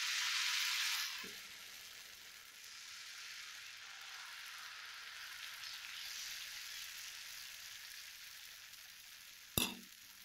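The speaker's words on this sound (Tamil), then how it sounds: "இப்போ வந்து நம்ம தோசை ஊற்றி எடுத்துக்கலாம்" Tomato dosa batter hits a hot griddle with a loud initial hiss that settles into a steady, softer sizzle, ending with a brief sharp clatter.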